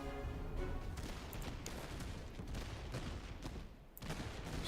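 Cannon and musket fire in the Master of Command musket line battle game, a dense continuous crackle of overlapping shots with heavier booms, fairly quiet and steady, with a brief dip near the end.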